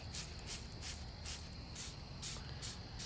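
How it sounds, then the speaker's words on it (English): A handheld sprayer mists neem oil mixture onto a tomato leaf in a garden, faint rhythmic hissing pumps roughly every third of a second over steady background noise. "Okay, I'm going to spray this leaf down."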